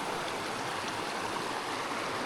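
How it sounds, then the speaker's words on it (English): North Texas Creek, a Colorado mountain stream, rushes in a steady, full-bodied wash of water that carries on unbroken and fairly near, with no voices. "This is North Texas Creek."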